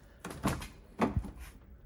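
The door of a Toyota MR2 (SW20 with a 2GR V6 swap) is opened inside a garage. Two close clunks of latch and hinge sound about half a second apart, fairly near and clear.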